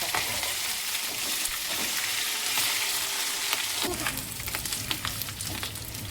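Dried red chillies, ginger and garlic hiss and crackle in hot oil in a pan for chilli chicken, a loud steady sizzle that bursts up sharply partway through as more goes in, with scattered pops and stirring.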